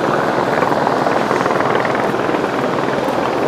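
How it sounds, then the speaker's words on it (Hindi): Helicopter engine and rotor roar steadily at the Kedarnath helipad, a dense continuous drone that stays loud and unbroken throughout, with a gusty windy wash over it and no talking. "वो सामने देखिए हेलीकॉप्टर उड़ने के लिए तैयार"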